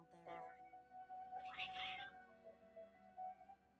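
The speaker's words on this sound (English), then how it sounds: "Strange. Cats seemed pretty worked up." Cats meow in the Genshin Impact video game: a few agitated, drawn-out meows at close range, layered over soft game ambience with a voice speaking.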